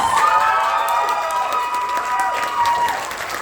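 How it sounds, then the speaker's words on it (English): Audience applause and cheering for a graduating senior, Rose Walters, at a youth theatre cabaret performance, a loud, dense wash of clapping with shouts and whoops that holds steady throughout. "give a huge round of applause for Rose Walters"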